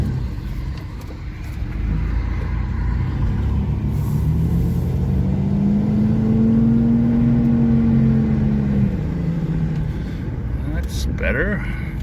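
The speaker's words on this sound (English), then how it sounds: "There's some strange noise in there, but well, it's an old Chevy." An old Chevy S10 Blazer driving with a steady engine rumble that rises and eases as gears shift, with a faint whine mixed in.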